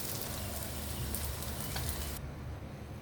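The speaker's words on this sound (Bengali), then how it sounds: "এগুলোকে আমি এইভাবে শ্যালো ফ্রাই করব।" Hash browns shallow-fry in hot oil with a steady, close, dense sizzle that crackles evenly throughout and dips only slightly near the end, with no talking.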